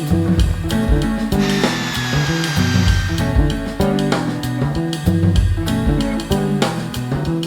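A power drill bores through a steel bar for a steel shade structure, grinding continuously and loudly with rhythmic clattering impacts and a rising whine partway through, no talking.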